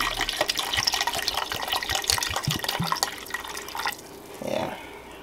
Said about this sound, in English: I'm going to put about a cup of apple cider vinegar